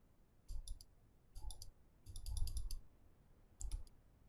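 Computer mouse clicked in rapid bursts while playing Ranch Simulator, four quick clusters of sharp, close clicks separated by short pauses.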